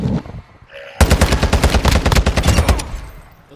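Rapid automatic gunfire in the Call of Duty DMZ video game: a long, loud burst of closely spaced shots follows a short pause after an earlier volley, fading slightly at the end.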